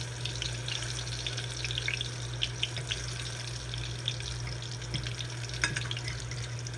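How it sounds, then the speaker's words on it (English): Steady crackling sizzle of food frying in a pan, with scattered pops over a low hum, no voices. "Yeah, it's frying."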